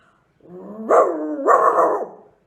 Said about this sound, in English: He first heard a dog growl and bark.